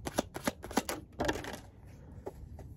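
Field Tarot cards being shuffled in a series of crisp, rapid riffling bursts, about five distinct flicks, followed by quieter scattered card slaps with a faint hiss underneath.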